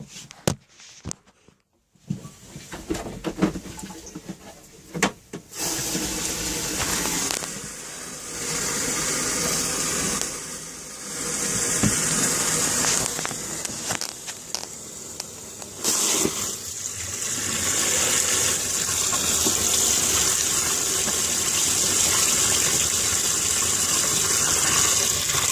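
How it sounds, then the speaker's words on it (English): Water filling a travel trailer toilet being checked for a leak, starting with a few clicks and short bursts, then a loud steady gushing rush that runs on close by and grows slightly fuller toward the end, with no talking. "what I'm gonna proceed to do is to fill out this toilet with water"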